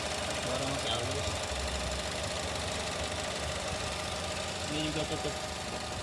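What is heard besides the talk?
Chevrolet Spin LS car engine idling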